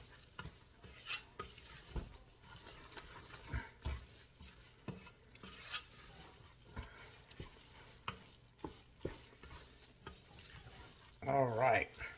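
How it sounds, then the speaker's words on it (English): Browned ground meat being stirred with Italian breadcrumbs in a pan, soft scraping and clinking of a spoon against the pan with a faint sizzle, in irregular strokes at low volume. "We're going to put a cup of Progresso Italian breadcrumbs in it. And we're going to mix it up real good."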